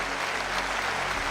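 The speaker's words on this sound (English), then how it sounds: "Garnering a round of applause." A crowd applauds at a Rocket League World Championship esports event, a dense, steady wash of clapping held at even loudness for the whole short stretch, with no voices breaking through.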